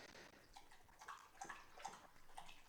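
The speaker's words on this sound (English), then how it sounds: "My dog is drinking water." A dog laps water indoors, a soft, faint, continuous wet sloshing with small splashy accents, quiet and close with no voices.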